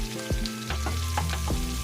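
Garlic fries in oil until golden brown in a pan for pork adobo, giving a continuous close sizzle with a few soft stirring scrapes and no talk.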